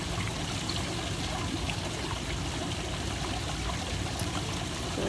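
Water runs and pours steadily close by, a continuous splashing hiss with no break and no talking.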